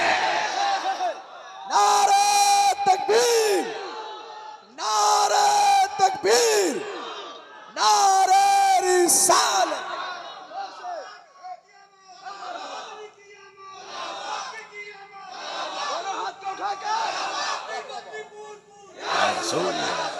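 A large crowd at a religious celebration shouts back in unison after a Naara-e-Takbeer slogan, three loud swelling chant bursts followed by softer murmuring and a voice, with another surge at the end.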